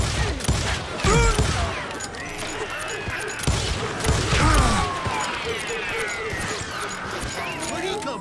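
Gunfire in a video game crackles in dense bursts and rapid volleys alongside metallic mechanism clatter, while voices shout over the shooting.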